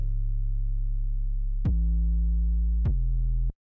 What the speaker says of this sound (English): the last sort of like synth thing I'll show you is the 808